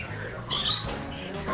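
An unidentified bird in a park at Yercaud gives a short, sharp squawking call, faint and somewhat distant over low background hum.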